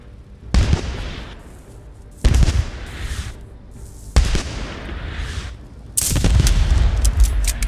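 Artillery and gunfire from the game Post Scriptum: four heavy blasts land roughly two seconds apart, each with a rumbling, crackling tail, and the last swells into sustained loud firing.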